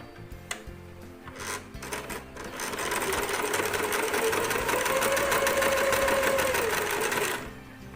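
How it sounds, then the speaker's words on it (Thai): Sewing machine stitching along the folded edge of a fabric face mask; a few short starts, then a steady fast mechanical whir that runs close and loud for several seconds before stopping. "เสร็จแล้วเย็บนะครับ"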